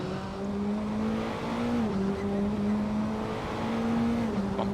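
Praga R1 race car engine droning steadily at high revs on a flying lap in Assetto Corsa, a continuous strong tone with brief dips at gear shifts, loud and close throughout with no talk.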